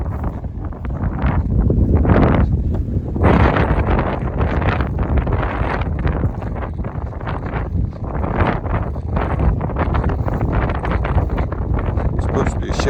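Strong wind on the Appalachian Trail buffets the microphone with a continuous loud low roar and gusting rustle, while a person talks over it.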